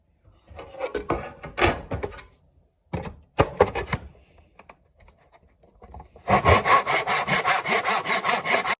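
Hand sawing a square wood block in uneven bursts of rasping strokes, then a steady, rhythmic run of fast back-and-forth strokes close by.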